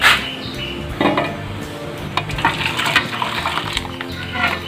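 Boiled colocasia and its cooking water poured into a bamboo rice-washing strainer, a close splashing pour with clattering and knocks of the pot against the strainer, no talking.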